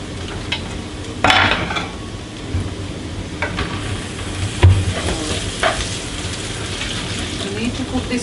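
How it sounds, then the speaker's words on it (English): Onions fry in a thin layer of oil in a pan while a mutton chops curry is prepared, giving a steady soft sizzle with occasional louder crackles and stirring scrapes, close and fairly constant. "Cook these onions till they are brown."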